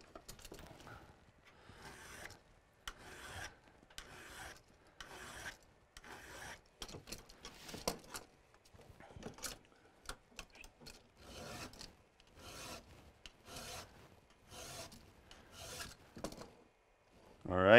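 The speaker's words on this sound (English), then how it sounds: "I'm just sharpening in this direction on it" Steel file rasping across the front points of an ice climbing tool, a long run of regular back-and-forth strokes, close and fairly quiet, with a brief louder burst at the very end.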